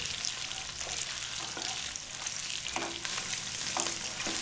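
Chicken pieces fry in a pan for a ginger chicken dish, a steady, close broadband sizzle with occasional crackles and light scraping, no voices.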